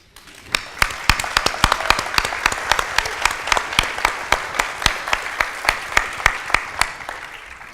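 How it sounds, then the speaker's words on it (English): Applause at an awards luncheon, with a few close, sharp individual claps standing out in a loose rhythm over a softer spread of clapping from the room. "I want all of you to applaud for yourselves"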